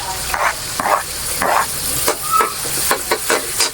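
Onions fry in butter with a continuous crackling sizzle and irregular stirring scrapes, plus a brief faint tone partway through.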